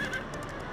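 A cartoon horse whinnies in a short, high, wavering call, fairly faint against a noisy background.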